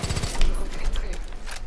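Rapid gunfire in a first-person shooter video game, a dense burst of overlapping shots filling under two seconds, loud and close with a voice mixed in beneath.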